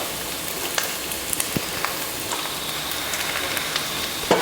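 Vegetables sizzle and crackle in a hot pan, added to oil with curry leaves for a Tamil-style stir-fry, with a steady close frying hiss and occasional sharper pops and ticks.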